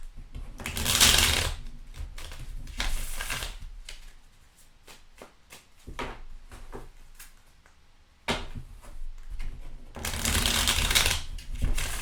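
Tarot cards are shuffled in long, loud riffling bursts, with softer taps and card handling in the quieter stretch between them, all close up and with no voices.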